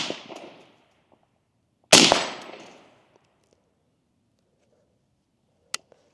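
Rifle shots at an outdoor range from a new rifle build, a sharp crack at the start and another loud report near two seconds, each with a decaying echo, then a faint click later in otherwise quiet air.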